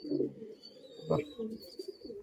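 Giribaz pigeons coo softly in short low throaty phrases. Faint bird chirps and soft background murmur sit around them, and the birds sound close but quiet.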